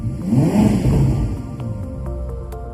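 A Ferrari SF90 Spider's engine starts and revs, a loud close burst of rising and falling mechanical roar that settles into a steady idle hum.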